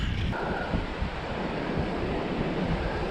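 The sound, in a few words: strong wind on lake shore while fishing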